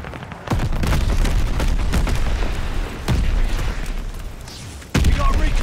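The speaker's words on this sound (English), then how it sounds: "Allied mortar fire inbound." Mortar fire explosions from Call of Duty Vanguard, several heavy booms hitting in sequence, loud and close, with sharp broadband blasts around the middle and near the end over a continuous rumbling battle din.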